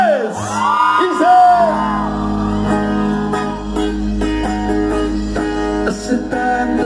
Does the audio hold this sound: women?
yes